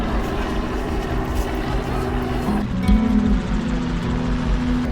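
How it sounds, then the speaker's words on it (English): Helicopters flying in the sky above desert sand dunes in the Gobi near Dunhuang give a steady, droning rotor and engine hum that holds throughout, with a tonal whine shifting slightly partway through. "in the sky I've seen 2 or 3 helicopters"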